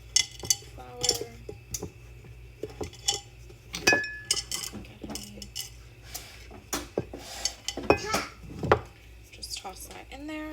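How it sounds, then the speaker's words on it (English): Flour being scooped out of a storage container for homemade banana bread: scattered close clinks and scrapes of utensils against the container and bowl, with a person talking alongside. "since I keep my flour in this container, it's a bit easier to scoop out with this"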